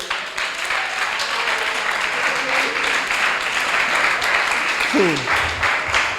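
A church congregation applauds in steady, dense clapping, with voices calling out beneath the applause and a sharp vocal cry near the end.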